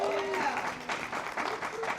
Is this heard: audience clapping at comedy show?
yes